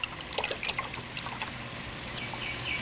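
Heavy whipping cream pours into a soup pot for she-crab soup, a soft close trickle and splash running steadily for a few seconds with no talking.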